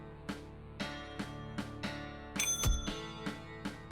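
A bell sound effect from the video game Dustwind: Resistance rings once, a bright metallic ding. It stands out over steady, rhythmic game music with repeated plucked beats.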